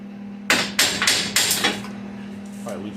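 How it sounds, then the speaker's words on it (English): Hammer tapping on metal of a 1949 Studebaker Champion gasser project car, five sharp, fairly loud strikes in a quick uneven run, followed by quieter rustling over a steady low electrical hum. "I'm going to try to tap it a little bit with a hammer"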